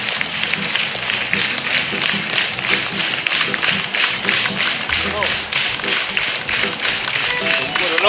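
An audience claps continuously in a steady, dense patter of hand taps that stays loud throughout, with a voice speaking over it.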